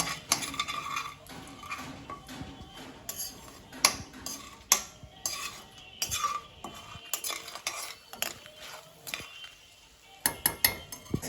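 A metal spoon clinks and scrapes around a pan as spices are stirred in hot oil for egg biryani, a run of irregular close taps and scrapes over faint sizzling, with no talking.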